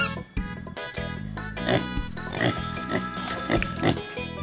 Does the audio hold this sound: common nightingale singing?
no